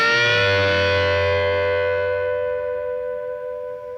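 A distorted electric guitar plays a classic rock lick with a whole-step bend, one loud sustained bent note ringing with gritty overtones and slowly fading.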